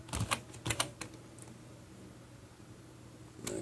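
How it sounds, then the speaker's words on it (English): Keystrokes on a computer keyboard, a few quick soft taps at the start and another near the end, faint and close against a quiet room hiss. "Here we just want to type text."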